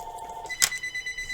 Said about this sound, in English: Just a minute, gotta answer my phone.